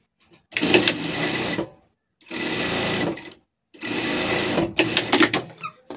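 Sewing machine stitching a shoulder seam on a surgical garment, running in three sustained bursts separated by short pauses, close and fairly loud, with no talk over it.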